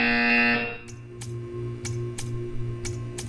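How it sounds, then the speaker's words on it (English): In the video game Portal 2, a short electronic buzzer tone sounds once at the start, then a series of regular, evenly spaced clicks or ticks follows against a quiet humming background. "You will hear a buzzer. When you hear the buzzer, stare at the art."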